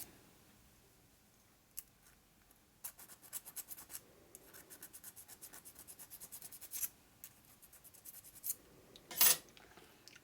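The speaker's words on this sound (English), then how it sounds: "Use a dull file so it doesn't really take off much metal." A dull file scrapes and deburrs a 1983 shovelhead motorcycle engine part in quiet, uneven rasping strokes, starting sparse and then coming in a quicker series of short scrapes, with a sharper louder rasp near the end.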